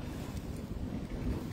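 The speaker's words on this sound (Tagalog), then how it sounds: "Malakas ang hangin kasi" Strong wind buffets the microphone in a constant low roar, with no voices.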